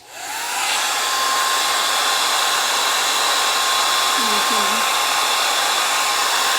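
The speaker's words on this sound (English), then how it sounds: "Let me use the blow dryer again." A blow dryer whirs up and runs steadily with a loud, close, continuous airy roar while drying a mascara brush that was rinsed with rose water, and no one talks over it.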